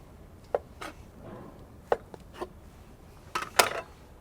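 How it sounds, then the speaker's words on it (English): A bench scraper cuts crumbly biscuit dough into four on a work surface, giving a few sharp, separate knocks and scrapes spread out over a few seconds, quiet and close. "I'm just gonna use the bench scraper to divide it into 4"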